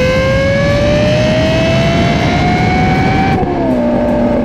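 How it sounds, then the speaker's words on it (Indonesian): A Lexus LFA supercar engine revs loud and high, its pitch climbing steadily before dropping sharply as the throttle eases off. "Supercar dari Lexus yang suaranya menggelegar."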